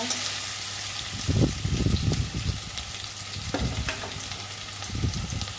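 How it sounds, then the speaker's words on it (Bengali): Potatoes frying in oil in a home kitchen for an elephant-foot-yam and potato curry: a continuous sizzling hiss broken by occasional stirring clatters from a utensil against the pan. "আলুগুলো ভেজে নিচ্ছি"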